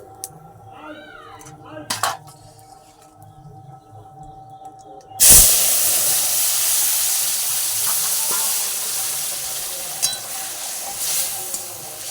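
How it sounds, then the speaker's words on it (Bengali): Tempering spices hit hot oil in a Bengali home kitchen for a shiuli leaf fritter dish, bursting into a loud, sudden hiss that settles into steady close sizzling after a few quiet kitchen sounds. "এবার তেলে একটু ফোড়ন দেবো"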